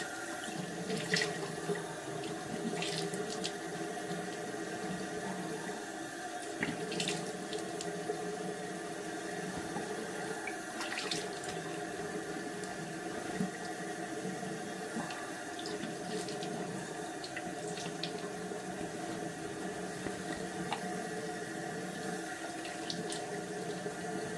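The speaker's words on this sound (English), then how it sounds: "So now I'm going to go back through with extremely cold water." Cold water runs steadily from a tap into a bathroom sink, a continuous close splashing rush for the whole stretch with a few brief clinks and bumps.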